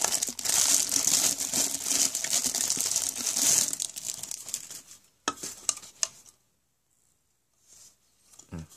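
Plastic wrapping crinkles and rustles loudly and continuously as a Starbucks 2014 coin bank is unboxed, then the handling thins into a few scattered crackles before near silence and a final soft rustle.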